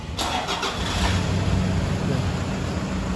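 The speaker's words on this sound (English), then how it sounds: "Sit inside the car, start the engine." A car engine cranks and catches inside the vehicle during an automotive air-conditioning diagnosis, a brief starter burst followed by a steady, fairly loud running rumble heard close up.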